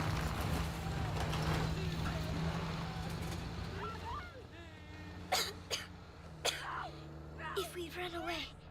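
In Call of Duty Modern Warfare, a person coughs several times in short, harsh bursts near the end, following a low vehicle-like drone and background game sounds.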